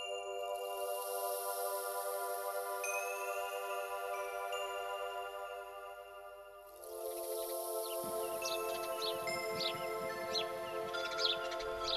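Small birds and pigeons at a waterhole in Iran: a steady run of chirps and tweets with a faint droning hum underneath, and louder, busier calls picking up in the second half.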